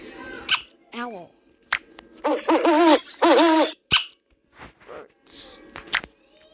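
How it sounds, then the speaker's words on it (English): An owl's hoots come as several short, falling calls in a quiet setting, mixed with brief clicks and a few squeaky sounds, fairly close and clear. "owl"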